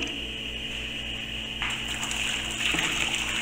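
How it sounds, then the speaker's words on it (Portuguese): Two liters of boiling water gush steadily from a container onto a concentrated liquid-soap base in a home kitchen, a continuous close pouring rush that swells slightly toward the end. "Agora eu vou colocar 2 litros de água fervendo"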